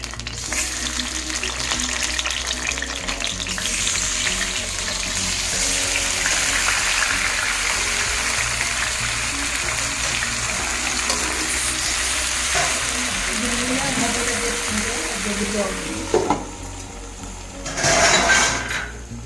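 Tomato pieces fry in peanut oil for a coriander-tomato chutney, giving a loud continuous sizzle with stirring scrapes and a few clinks toward the end.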